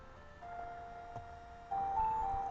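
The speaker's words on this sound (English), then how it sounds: "we trigger the Limblum car leaving" A Lindblum car departing in Final Fantasy IX, a sustained mechanical hum with steady tonal whines that swell louder partway through, moderately close and heard alone.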